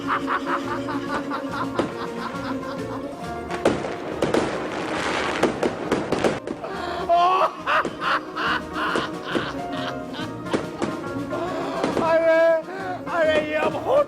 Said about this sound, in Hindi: अरे पूरे 1000 रुपए के पटाखे फिट किए हैं मैंने मुल्तान की गैलरी में